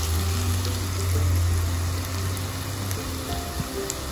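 Onions fry in a pan for thin mung and red lentil khichuri, giving a continuous soft sizzle with a low steady hum underneath and no voices.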